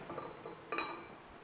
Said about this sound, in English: I'm just going to put the lid back on and let it keep cooking